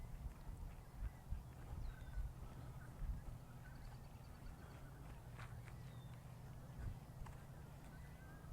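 Geese honk now and then at a distance over quiet outdoor ambience, with some low thumps and rustling nearby.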